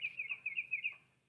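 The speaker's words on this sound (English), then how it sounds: "You hear the birds chirping." Birds chirping in a quiet suburban scene from a video game: a faint, rapid run of high repeated tweets, alone, fading out at the end.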